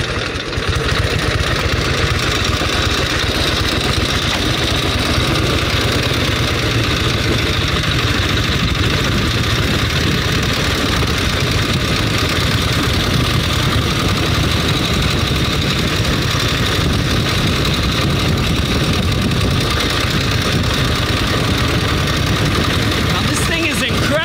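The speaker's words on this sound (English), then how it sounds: "The motor makes virtually no valve noise, no push rod noise." A well-preserved vintage Harley-Davidson motorcycle engine idles close by, a loud, steady, even rumble with no valve or pushrod clatter, running continuously throughout.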